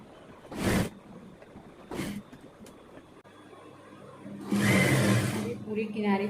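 A sewing machine stitching a kurti runs in a short motorized burst near the end, after a few scattered handling noises and quieter moments where a voice may be present.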